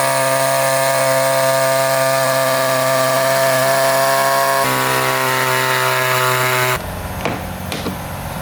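A power tool cuts straight across the plastic bumper bar of a Mitsubishi Triton for a bull bar fitting, giving a loud, steady, high whine that holds with a brief change in pitch, then cuts out abruptly into scattered quieter handling noise.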